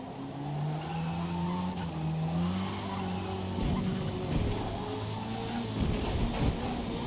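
A Honda Prelude four-cylinder race car in a Forza racing game, its engine howling at high speed near 200 mph, steady and loud, with gear shifts and tire squeal toward the end.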